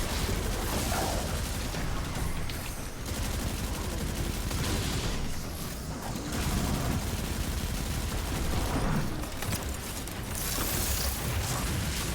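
Destiny 2 gunfire hammers on in loud, dense bursts of rapid shots mixed with mechanical clanks and blasts, easing off briefly every few seconds before picking up again, with no speech.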